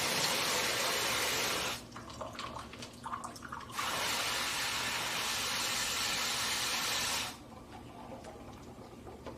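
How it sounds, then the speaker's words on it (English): A freeze protection valve on a passenger rail car's potable water tanks opens to drain, giving a loud, steady rushing of water that stops briefly, surges again, then drops to a quieter trickle. "the valve modulates open to drain your tanks before any freeze damage can occur"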